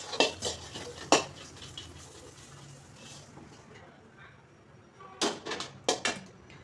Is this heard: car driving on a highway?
no